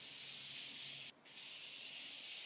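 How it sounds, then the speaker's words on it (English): A Morphe Continuous Setting Spray mist hisses onto a face in one long steady spray, close and soft, briefly cut by a short gap before the fine hiss resumes. "The Morphe Continuous Setting Spray."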